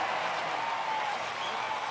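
Stadium crowd applauding and cheering for Kershaw, a steady dense wash of clapping and roar with no breaks and no clear voice on top.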